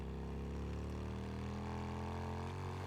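A motorcycle engine in the video game Days Gone runs with a steady, droning hum that rises slightly in pitch, continuous and close, with no talk.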